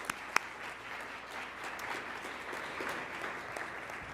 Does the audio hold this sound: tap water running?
no